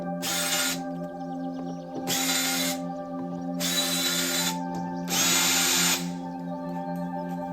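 A power drill works on the cover screws of a Ryobi electric riding lawn mower, whirring in four separate bursts of about a second each with short quiet gaps between them, close and loud.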